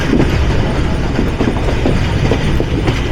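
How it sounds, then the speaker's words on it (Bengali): Chitra Express intercity train passing through Tongi railway junction in Bangladesh, a loud, continuous rumble with rhythmic clickety-clack of wheels over rail joints, heard close up with no voices. "আমাদের আন্তনগর চিত্রা এক্সপ্রেস ট্রেন পার করছে দেশের top most highly wanted risk railway junction Tongi."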